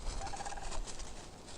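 Sandhill cranes call on a farm at twilight, their faint, rolling, gobbling calls carrying from a distance through the quiet evening air.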